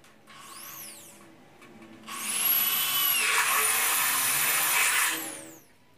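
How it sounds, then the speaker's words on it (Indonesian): A power drill whines in a short burst, then bores through steel C-channel steadily at high pitch for about three seconds before winding down; close and loud. "Oke, di sisi sebelah juga dibor"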